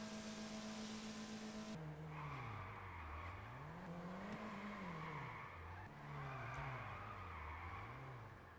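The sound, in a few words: car tires skidding while drifting with low grip tires, GTA Online video game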